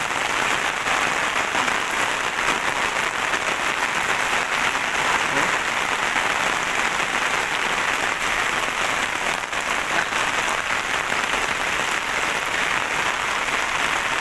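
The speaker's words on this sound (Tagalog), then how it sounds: "sobrang lakas ng ulan ba dito" Heavy typhoon rain pours down in a constant, dense roar with no breaks, a steady wash of noise throughout.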